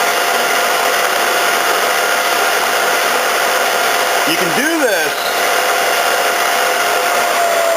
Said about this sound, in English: I set my Bridgeport up for max speed. Turn it on.